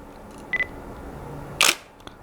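A single-lens reflex camera fires its shutter with a speedlight flash aimed straight at a product. A short high electronic beep comes first, then one crisp, loud mechanical shutter snap. Nothing else is heard around them.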